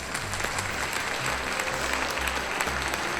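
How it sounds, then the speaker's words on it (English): A studio audience claps steadily throughout, a dense, even round of applause close by with no one speaking over it. "Let's give a round of applause to our crack pilot, the Ace."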